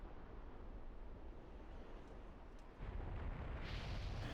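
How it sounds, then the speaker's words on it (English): A fire geyser in the video game Zelda Wind Waker gives off a steady, dense roar that swells louder partway through, like rushing flame, with no voices. "I guess it's a fire geyser."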